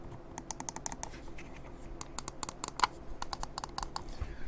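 Rapid crisp clicks from the left and right buttons of a Roccat Kone Pro gaming mouse, sharp clustered taps in quick bursts, close and fairly quiet over faint room noise.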